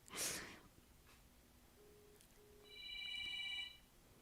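A newly ported mobile phone rings faintly with short electronic tones, first two brief low beeps and then a layered, higher chiming ring, after a breathy sound at the start.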